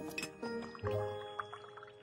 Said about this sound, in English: A teapot that just pours tea?